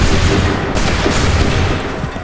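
A massed musket volley from a line of soldiers in the video game Assassin's Creed 3 roars loudly with overlapping cracks and a booming rumble, easing off slightly toward the end.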